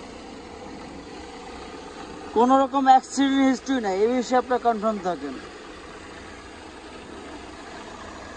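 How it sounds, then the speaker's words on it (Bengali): A 2010 Toyota Axio Limited idles with a low, steady engine hum in the background while someone talks over it for a few seconds. "ইঞ্জিন বিবিটিআই"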